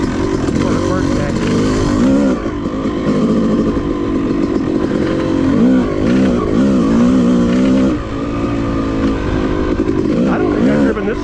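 A Yamaha YZ250 two-stroke dirt bike ridden slowly along a woods trail, its engine droning and revving close up throughout while someone talks over it.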